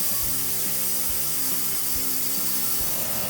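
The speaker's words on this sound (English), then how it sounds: "The plasma cutter has what's called a drag tip, which means you can drag it across the surface of the metal." A plasma cutter slices steel pipe for an entry gate, giving a loud, close, continuous hissing roar with a steady buzzing hum beneath it and small irregular knocks, and no talking.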